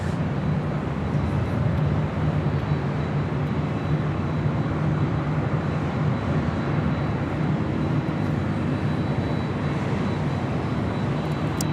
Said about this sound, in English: Next heavy departure, followed by Lufthansa, flight 453, heading back to Munich there in Deutschland.